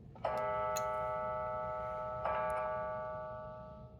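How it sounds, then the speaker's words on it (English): A clock chimes twice in a quiet room: two bright ringing strikes about two seconds apart, each leaving a long, steady resonant tone that slowly fades, with no voices present. "we hear the clock chime"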